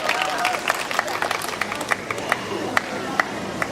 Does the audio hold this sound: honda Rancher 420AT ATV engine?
no